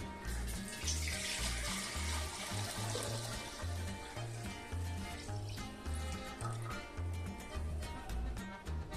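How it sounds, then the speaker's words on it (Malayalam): Water poured into a cooking pot while making Attukal pongala payasam, a continuous gurgling, splashing stream with rhythmic low thumps, fairly quiet and close, with no talking. "ആവശ്യത്തിന് വെള്ളം ഒഴിച്ചു കൊടുക്കും."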